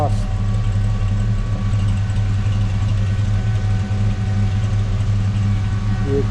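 A 1957 Chevrolet Bel Air's inline-six engine idles steadily with a deep, low rumble and even rhythm throughout, close and loud, with no talking over it.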